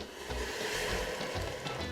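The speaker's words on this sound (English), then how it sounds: "Did you hear that sizzle?" Vegetables sizzle in a hot pot on medium heat with no oil, a steady bright hiss with faint crackles, close and continuous, with no talking.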